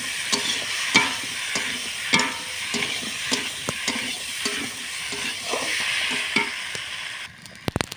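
Food frying and sizzling in a pan is stirred steadily, a spoon scraping the pan in regular strokes over a continuous hiss, then the noise drops near the end.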